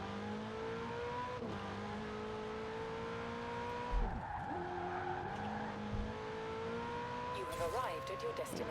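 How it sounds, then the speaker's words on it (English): Ferrari 488 Pista engine droning and shifting pitch while drifting, with skidding tire squeal rising near the end and sustained engine harmonics throughout; a voice talks over it. "I'm literally just drifting the fucking pista"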